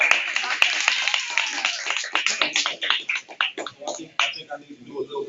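An audience applauds at a spoken word poetry night, a dense burst of clapping that thins out over a few seconds while voices mix in.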